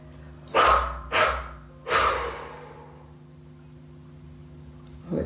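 Three forceful open-mouthed exhalations during a yoga class, the second quickly following the first and the third after a short pause, close and breathy with a low hum behind, then a faint fourth breath at the end.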